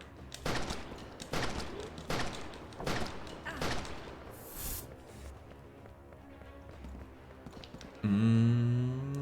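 Video game gunfire in Outbreak: Nightmare Chronicles, a run of about six sharp, evenly spaced shots followed by quieter rustling, then a sustained tonal game sound at the end.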